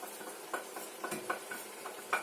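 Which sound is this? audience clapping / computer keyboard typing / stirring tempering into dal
stirring tempering into dal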